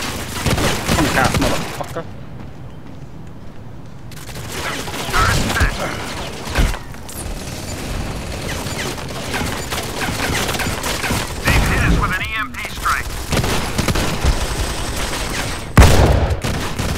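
Gunfire from the mobile shooter Modern Combat 5, including shotgun blasts, comes in loud bursts and rattling volleys over layered game noise, with a quiet gap early on and sharp reports near the end.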